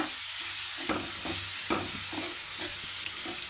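Crushed chili powder and onion frying in a pan for a Kerala curry, a steady sizzle broken by soft scrapes and stirring strokes every half second or so, with no talking.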